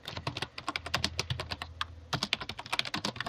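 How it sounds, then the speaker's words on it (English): Loud, close typing on a keyboard, a rapid irregular run of sharp clicks and clacks with a brief pause midway before the keystrokes resume just as fast. "Sorry for the loud typing"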